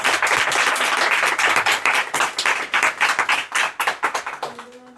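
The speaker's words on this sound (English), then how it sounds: "Round of applause, please." An audience at a panel on equity, diversity and inclusion gives a full round of applause that starts dense and loud, then thins into scattered individual claps before fading out near the end.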